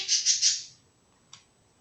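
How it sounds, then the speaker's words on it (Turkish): Pet birds chirp indoors in a quick burst of three bright, high tweets, followed after a pause by one faint, short chirp. "kuşlarım ötüyor"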